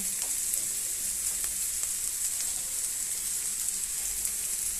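Potatoes fry in a spice masala, giving a steady, close hiss and sizzle with small crackling pops and no talk.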